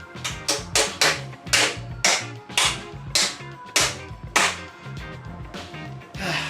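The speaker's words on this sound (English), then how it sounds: "So I'm going to drive some new nails" New nails being driven by hand with a hammer: about a dozen sharp, ringing blows in an uneven rhythm, loud and close, with brief gaps between the groups of strikes.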